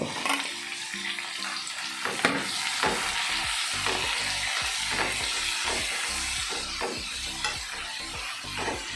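Red masala with onion fries and sizzles in a pan while a spoon stirs and scrapes repeatedly, steady close frying under rhythmic stirring strokes, with no talking.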